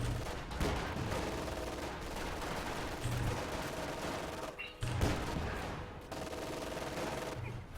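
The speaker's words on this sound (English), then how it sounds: "There's just a lot of gunfire going on right now." Heavy gunfire in the Company of Heroes 2 World War II strategy game: dense bursts of rifle and machine-gun fire crackle continuously, with a few short lulls between volleys, at a moderate distance.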